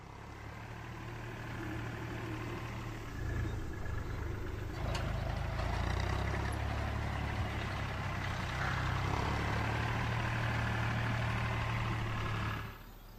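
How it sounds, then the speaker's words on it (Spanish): A heavy engine idles steadily at close range, a deep low rumble holding for the whole stretch with slight swells in loudness. "ya ni siquiera les molesta el ruido del motor"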